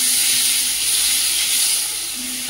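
Eggplant slices coated in salt and turmeric fry in a pan with a steady, close hiss that holds evenly throughout, easing slightly toward the end, with no voices.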